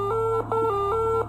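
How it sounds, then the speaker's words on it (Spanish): A repeating two-tone electronic beeping alarm, three even pulses, loud and steady over a low hum, like a metro door warning. "Sonó aquella alarma tan característica del metro al cerrar las puertas"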